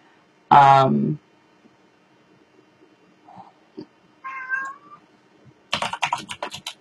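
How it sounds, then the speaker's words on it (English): A loud, close cat meow, then a few quieter meows and clicks, ending in a burst of rapid keyboard typing. "That's Simon meowing"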